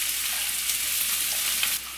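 Finely chopped large onion sizzling steadily in hot oil with whole spices, a dense continuous fry hiss close up, easing slightly near the end; no talking.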